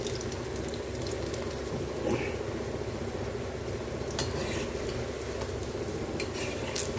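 Bitter gourd vadas frying in hot oil, a steady close crackling sizzle that runs throughout with occasional clinks of a utensil against the pan.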